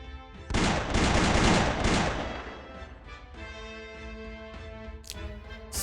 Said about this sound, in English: Six bullets shoot out of her revolver at once.